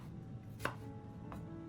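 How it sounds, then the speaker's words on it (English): Onions being sliced on a cutting board: two quiet knife chops against the board, the first sharper, over a soft room hum with no voices. "place the onions on the cutting board and slice them into thin slices or small pieces"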